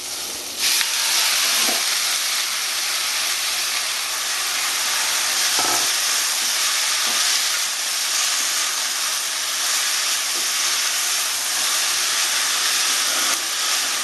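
Chopped bottle gourd hits hot oil with cumin, and a loud, steady hissing sizzle bursts up within the first second and carries on unbroken, close by.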